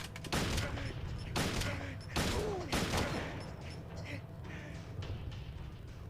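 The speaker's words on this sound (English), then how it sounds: "I don't know what else to do other than just trade shots." Handgun shots from Silent Hill 2, several sharp loud reports at irregular intervals over a steady game background, with a voice talking among them.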